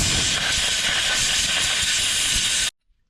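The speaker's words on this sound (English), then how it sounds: "I'm just going to blow that out with an air line first." A compressed air line blasts out a part of a 1980s Honda Big Red, a loud, steady, close hiss that runs unbroken for nearly three seconds and then cuts off abruptly into silence.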